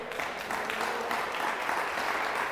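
A church congregation applauding during a sermon, a steady dense wash of many hands clapping at even loudness throughout, with no voice over it.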